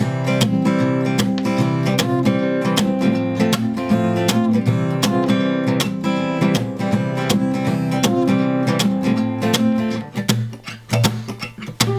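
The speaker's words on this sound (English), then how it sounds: "So all I do to get that slap sound, I still strum" Acoustic guitar strummed in a steady rhythmic pattern for a pop song, with sharp percussive slaps on the strings marking the beat; played alone, close and loud.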